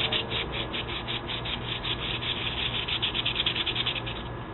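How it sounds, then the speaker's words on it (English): 240 grit sandpaper rubbed gently over a small carburetor part, a quick rhythmic scratching of repeated back-and-forth strokes, close and steady for several seconds with no talking. "here is some, I think it's 240 grit, which is a little grittier than what I want"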